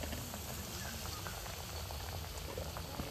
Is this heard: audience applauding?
no